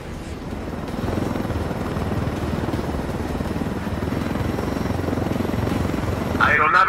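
A helicopter flying in the video game Ghost Recon Wildlands, a steady close rotor drone that holds for several seconds under talk and ends in a brief brighter burst.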